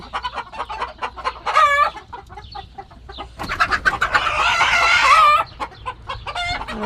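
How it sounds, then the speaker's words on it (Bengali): Chickens and a rooster gathered together on a farm, with near, loud rooster crowing and hens clucking in short repeated bursts, a dense squawking flurry in the middle, over faint background talk. "এই যে মোরগ একসাথে সবগুলো জড়ো হয়ে গেছে আর কি।"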